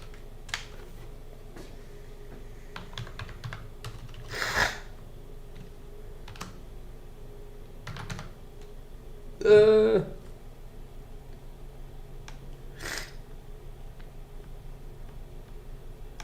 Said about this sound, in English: Keyboard again.